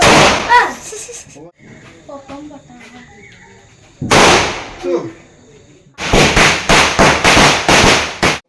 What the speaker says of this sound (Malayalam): ഇപ്പം ഞാൻ പേടിച്ചിരിക്കുന്നത് ഓലപ്പടക്കം പൊട്ടിക്കുന്നുണ്ടാട്ടോ